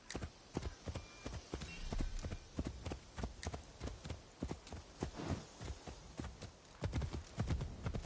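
Steady clip-clop of horse hooves plodding at a walking pace up a steep hill in the video game Assassin's Creed Shadows, close and fairly loud, with no talking.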